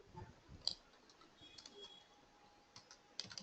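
Mouse clicks while copying in SAP software, a few faint sharp clicks scattered through a quiet stretch, with light keyboard-like ticking between them.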